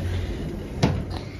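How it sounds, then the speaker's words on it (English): Lift doors at a DFS store in a Wednesbury retail park slide open with a single short clunk partway through, set against a low steady machinery hum. "Doors opening."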